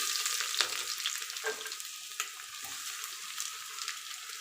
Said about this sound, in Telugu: 2 టేబుల్ స్పూన్ ఆయిల్ వేసుకున్నాను అండి. ఆనియన్స్ వేస్తున్నాను.